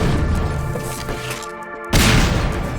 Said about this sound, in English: you can actually take this panel and you can do this with the gravity gun